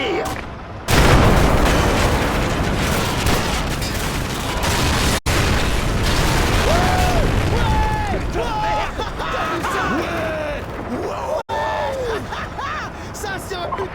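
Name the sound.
weapon fire and explosions in the video game Modern Warfare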